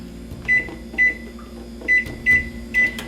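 A microwave oven hums steadily while heating food, and five short electronic beeps sound in an irregular run over it, close and clear.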